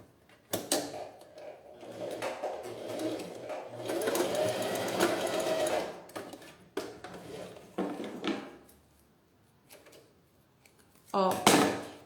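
A sewing machine stitches across a small fabric fold on a beach toiletry pouch with a clear window, running in quick close bursts separated by pauses and light handling clicks.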